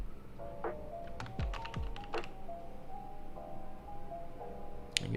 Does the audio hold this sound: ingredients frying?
no